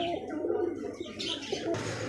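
Lakha pigeons cooing, soft close throaty coos with a few brief chirps, heard over a low background hum.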